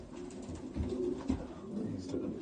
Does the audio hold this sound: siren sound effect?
no